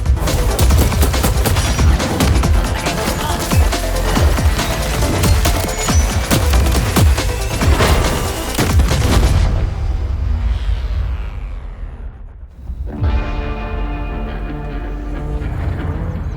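Dense, sustained gunfire and explosions from the sci-fi shooter video game Borderlands 4 on PS5, loud rapid bursts layered over a booming score, then a short lull before the mechanical clatter resumes.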